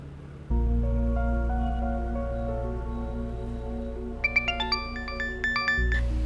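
Phone ringtone playing a sustained melodic tune, rising to bright chiming notes near the end, alone without talk in a quiet room.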